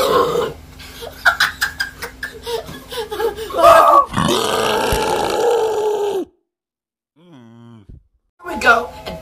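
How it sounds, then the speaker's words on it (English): After drinking Sprite, a man lets out a long, loud, rough burp that follows a stretch of chatter and grunting, then silence and a short, strained vocal sound near the end. "I have the urge to burp, but I can't."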